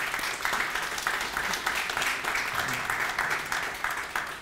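Audience applause, steady continuous clapping from a crowd sustained throughout at moderate loudness.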